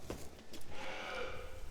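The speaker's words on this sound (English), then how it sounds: "we have lots of sheep" Sheep bleating on a British farm with a flock of around 400 ewes, several overlapping calls rising and holding for over a second, fairly close and moderately loud, with no talk.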